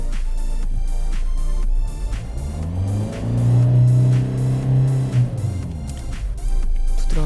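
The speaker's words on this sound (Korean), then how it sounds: "더뉴 아반떼 6의 스마트 등급 일단 RPM 오르고 내리고 확인하겠습니다." A Hyundai Avante (The New Avante) 1.6 VGT diesel in Smart trim idles with a low rumble, then revs smoothly up and back down once, heard up close.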